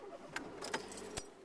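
Car keys jangling inside a car, a few brief metallic rattles close by, quiet and fairly isolated.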